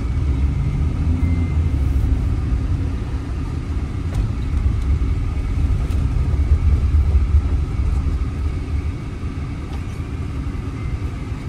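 A 2018 Tata Hexa XTA diesel automatic SUV drives along, its low steady engine rumble and road noise filling the cabin evenly throughout, with no voices.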